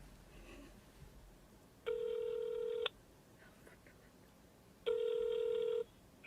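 A telephone call rings out: two evenly spaced, roughly one-second ringback tones sound clearly through a phone line over a faint background, with a pause between them.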